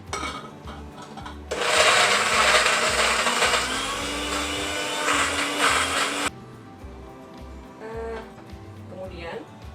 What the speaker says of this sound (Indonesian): Sekarang kita akan blender ya Bu ya. Kita kasih sedikit air supaya bisa halus.